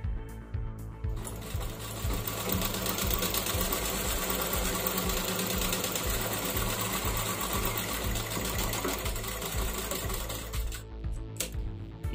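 An electric sewing machine stitches a blouse shoulder seam to its lining, running in one long, steady, rapid whirring chatter, close and clear with brief quiet at start and end.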